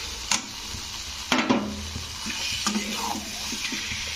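Potatoes go into hot oil with fried elephant foot yam, setting off a soft, steady sizzle punctuated by a few clinks and scrapes of a spatula against the pan, close and fairly quiet; no talking.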